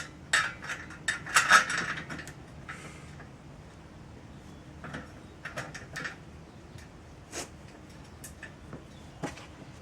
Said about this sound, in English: I use an Allen wrench to start it off and start screwing.